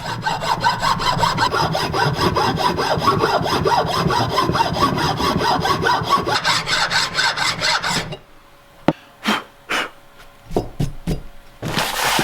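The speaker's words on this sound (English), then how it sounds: "Same again with the file, nice and flat, rub the powder coating off." A metal file rasps rapidly back and forth across the powder coating on an Escort Cosworth car part, a dense steady scraping for about eight seconds, then a few separate knocks and strokes after it stops.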